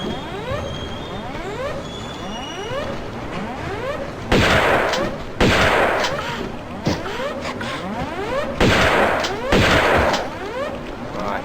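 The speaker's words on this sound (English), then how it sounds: "Use the shotgun, might as well, right?" A shotgun fires at bat enemies on the Offshore Rig level of Tomb Raider II Remastered. About four loud booming blasts land at regular intervals over a droning background of game noise.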